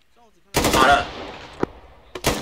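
Gunfire rings out in the military video game ArmA, aimed at an anti-aircraft machine gun. A loud sustained burst is followed by a single sharp shot and then another burst near the end, close and with no talk over it.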